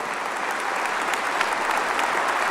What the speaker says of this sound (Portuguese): Pode ser muito melhor esse aplauso.